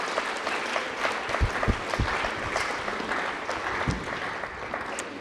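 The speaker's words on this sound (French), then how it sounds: "Vous pouvez l'applaudir." Audience applause at a French literary gathering of disabled and other writers, a steady mass of clapping with scattered sharper individual claps, moderately loud and continuous, no speech over it.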